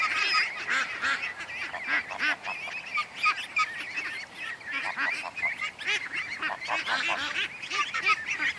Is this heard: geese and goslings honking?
yes